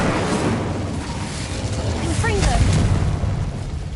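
Confringo blasting spell from Hogwarts Legacy going off as a heavy, rumbling explosion that swells midway and lingers under a dense bed of game noise, with a voice audible.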